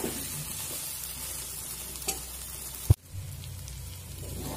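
Soybean chunks being stir-fried with potatoes and spices in a pan give a soft, steady sizzle, with one sharp utensil knock near the end. There is no talking.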